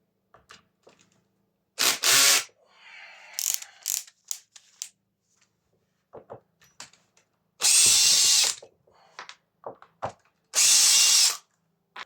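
A power drill or driver backs screws out of a Makita DUH754SZ hedge trimmer, loud bursts of whirring a second or so long with ratcheting clicks and small rattles of parts between them, close up, with no talk.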